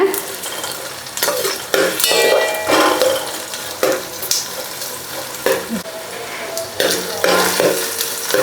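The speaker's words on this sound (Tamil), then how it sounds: "வெங்காயத்தை வந்து 2 நிமிஷம் வதக்கிட்டேன்." Small onions sauté in a pan for coconut milk fish gravy, crackling and sizzling up close while a utensil repeatedly scrapes and clinks against the pan in uneven bursts.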